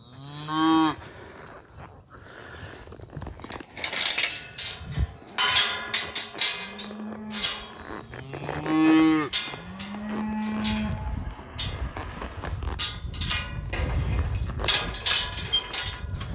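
A cow on a working ranch moos several times as a ranch horse moves it, some calls long and drawn out, with short pauses and scattered clanks and shuffling between them.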